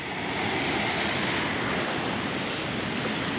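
Kipot Falls in Montalban, Rizal, gives a loud, steady broadband roar of rushing water that fills the scene without a break, with no voices.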